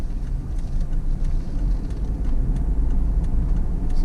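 A car rolls along a rough track toward an alpaca farm in Buckinghamshire, giving a continuous low engine rumble with bumping and rattling road noise throughout, close and steady.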